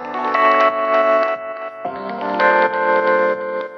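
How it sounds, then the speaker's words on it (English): A short electronic music loop plays loudly, sustained tones and chords repeating in two similar phrases with a slight effected, echoing character. "I've just selected a simple loop here."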